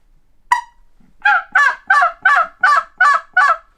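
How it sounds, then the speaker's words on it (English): A turkey tube call sounds a jake yelp: one sharp opening note, then a brief pause and a run of seven evenly spaced, raspy, honking yelps, loud and close with no voices. "I Jake yelp on it."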